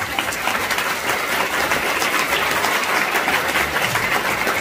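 A crowd claps continuously and loudly throughout, a dense, even wash of applause from an audience with no clear pauses.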